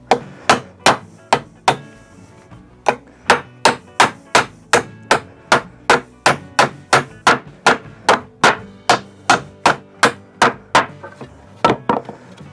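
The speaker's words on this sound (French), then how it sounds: "Et maintenant on va pouvoir enlever les clous." Hammer blows knocking nails out of wooden pallet boards, about thirty sharp, ringing wooden strikes in a steady rhythm with brief pauses, close and loud, no talk.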